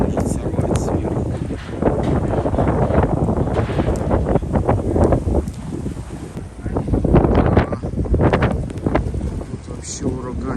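Strong blizzard wind gusts roar through a street in Ufa, a loud, continuous buffeting that rises and falls across the whole stretch, with a person talking over it.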